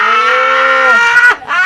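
A goat bleats loudly and close up, one long wavering cry that breaks briefly and then resumes, standing alone without talk.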